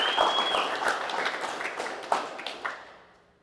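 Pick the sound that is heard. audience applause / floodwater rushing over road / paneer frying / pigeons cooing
audience applause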